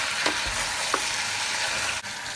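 Sugar and water caramel bubbling and sizzling steadily in a pan, a dense continuous hiss with a few soft pops, no voices.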